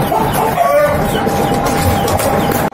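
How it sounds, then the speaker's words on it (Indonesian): A crowd of chickens clucks loudly and continuously at close range in a rural village yard, with a rooster-like call among the flock and faint voices underneath. "Ini rame bener ayam daripada rame."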